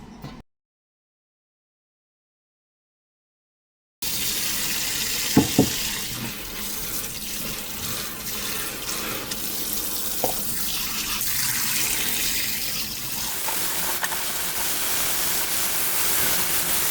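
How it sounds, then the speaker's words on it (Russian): Chopped liver is rinsed in a colander under a running kitchen tap, a steady close hiss of water with a few clattering knocks, beginning after several seconds of silence. "Сейчас мы тоже промоем ее под проточной водой."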